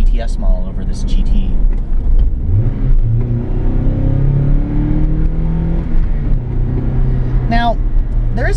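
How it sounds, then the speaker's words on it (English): Inside a moving 2004 Toyota Celica GT, a low engine drone, exhaust note and road rumble fill the cabin, rising as it accelerates, with a person talking over it. "It's pretty loud in here in terms of the engine, the road noise, the exhaust note."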